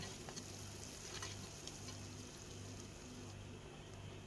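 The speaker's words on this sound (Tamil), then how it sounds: "கட் பண்ணி வச்சுருக்கிற வெங்காயம் பூண்டு அதெல்லாம் சேர்த்து நல்லா வதக்கி விட்டுறலாம்" Onion and garlic sauté in a pan with a faint, steady sizzle and soft frying crackle, continuous and without talk.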